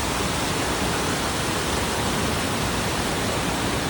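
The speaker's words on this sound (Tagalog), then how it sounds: "Yun na yung Mother Falls" Steady broadband roar of Mother Falls, a waterfall in Aurora, with mist rising below, filling the scene as a constant loud rush of falling water with no pauses and no voices.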